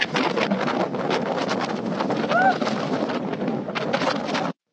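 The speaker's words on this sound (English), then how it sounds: "It was so windy. It was blowing me around." Strong wind on a cruise ship's top deck buffets the microphone in rough gusts, a loud roaring whoosh that rises and falls, with a brief faint whistle partway through.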